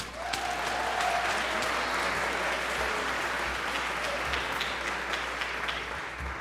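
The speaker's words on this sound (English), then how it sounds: "A round of applause for our soloists on that tune." An audience at a jazz ensemble concert applauds the soloists, with steady, dense clapping that holds for several seconds and then slowly thins out.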